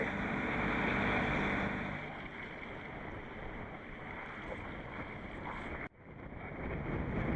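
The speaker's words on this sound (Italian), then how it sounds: "c'è un po' di vento da nord stamattina" Steady north wind rushing across a microphone aboard a boat at sea, a broad continuous roar with water and hull noise underneath, briefly cutting out near the end before resuming.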